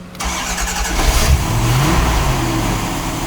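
A 1990 Corvette ZR1 with under 2,500 original miles cranks and fires up with the hood open, the engine catching quickly, revving briefly, then settling into a loud, steady idle close by.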